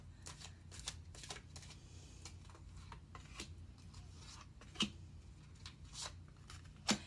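Cards are shuffled repeatedly in quick riffling bursts, close and fairly quiet, with a few sharper snaps near the end.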